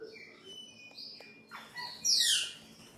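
A pet Brazilian blackbird (pássaro preto) sings indoors, giving a few clear whistled notes and chirps that build into a louder, bright warbling phrase near the end.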